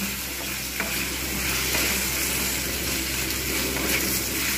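Potatoes fry in hot oil with onions for kochu alur dom, a steady close sizzle running throughout with occasional stirring scrapes and small spatters.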